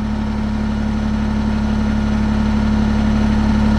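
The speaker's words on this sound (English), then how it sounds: "maybe while I'm waiting for the temperature to come up on the engine" A Kubota BX compact tractor engine idles steadily while warming up, a constant low hum with a strong droning tone, close and unchanging, with no voices.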